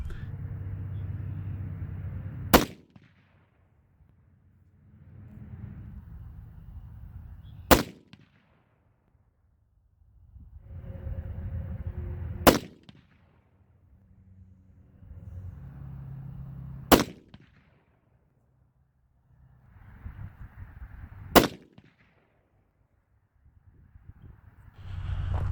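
Five 7mm PRC rifle shots fired with an H1000 powder load, each a sharp loud crack spaced several seconds apart, with rumbling echo and quieter background noise between shots.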